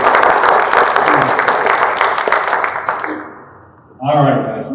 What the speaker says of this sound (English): So if we can just give them a round of applause real quick for taking the time.